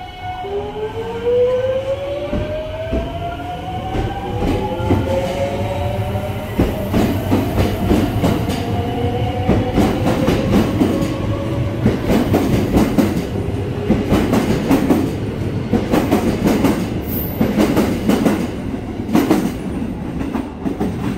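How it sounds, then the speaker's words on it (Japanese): Tokaido Line electric train with an un-updated original VVVF inverter, rising and falling tonal whine sweeping upward over steady rumble and wheel clatter, close and continuous throughout with no talk. "この列車、3VF 装置を更新していない編成だったので、ぜひ、東京では、馴染みのないサウンドをお楽しみください"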